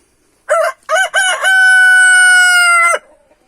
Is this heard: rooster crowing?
yes